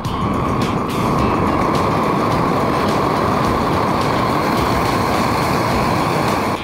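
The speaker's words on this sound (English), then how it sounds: "Oh, we got flame." Propane burns off from an opened tank valve as a loud, continuous roaring flame, a steady broadband rush that holds without a break.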